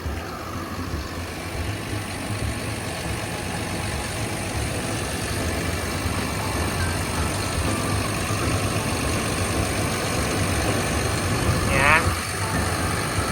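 A 20-ton Caterpillar 320E excavator's diesel engine idles steadily nearby, a constant low rumble that barely changes throughout.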